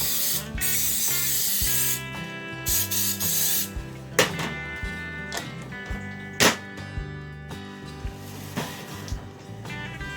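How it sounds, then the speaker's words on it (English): Non-stick cooking spray hisses onto a hot waffle iron in a home kitchen in several short bursts. Faint clicks and clatter sit under the spray, and nobody speaks. "I'm going to add a bit of non-stick cook spray to this thing."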